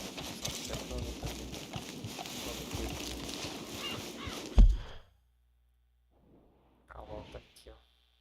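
A horse's hooves clip-clop in Red Dead Redemption 2, a busy run of steps mixed with other game sounds and talk that cuts off abruptly, followed by near silence and a brief later burst.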